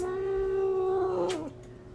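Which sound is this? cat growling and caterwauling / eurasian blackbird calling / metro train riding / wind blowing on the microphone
cat growling and caterwauling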